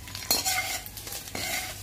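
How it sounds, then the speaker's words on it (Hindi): Taro (arbi) and spices being stirred in a wok, with a spoon scraping and clinking against the metal in a few strokes under a faint sizzle, close and fairly quiet. "मसाले ऐड करते सार ही मैं अरबी ऐड कर दूंगी। अरबी नूं अच्छी तरह हिला देना।"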